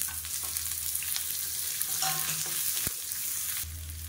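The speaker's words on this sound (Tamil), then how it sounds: "இப்போ இதில் ஒரு கைப்பிடி அளவுக்கு வெங்காயம் சேர்த்துக்கலாம்" Sliced onions frying with mustard seeds, cumin and curry leaves in hot oil for a Tamil chutney, a steady close sizzle with a brief utensil clink partway through.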